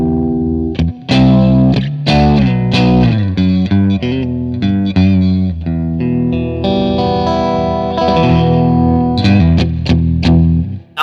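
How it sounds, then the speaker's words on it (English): Electric guitar played through a Marshall DSL1 1-watt amp on the classic gain channel, with the EQ knobs and volume set midway, giving a slightly broken-up, driven tone as chords and riffs ring with a chorus-like shimmer. "as you guys can hear, the amplifier have a little bit of breakup, but that's because the volume knob is in the middle"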